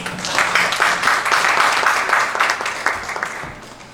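Audience applause at a pastors' seminar for an evangelism rally, thanking election officials, with dense steady clapping for about four seconds that thins out toward the end.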